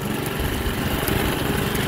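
A Toro 53 SP self-propelled lawn mower in third gear runs loud and close, its small engine droning at a steady rough pitch through the brief stretch.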